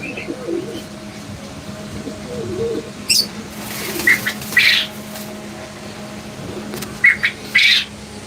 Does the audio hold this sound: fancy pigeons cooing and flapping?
yes